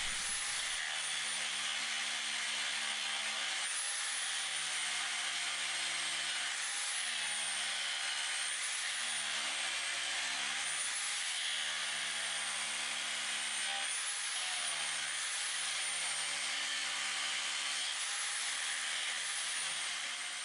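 An angle grinder works the toe of a Duplo horseshoe clip in a loud, high, continuous whine. The pitch rises and dips every few seconds as pressure on the workpiece changes, and no voice can be heard.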